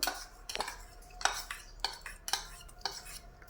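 Fenugreek leaf pachadi with green gram, lemon and tempering is mixed in a bowl, a spoon clinking and scraping against it in about six brisk, evenly spaced strokes, close and clear with no talk.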